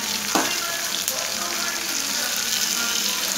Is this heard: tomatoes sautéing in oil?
yes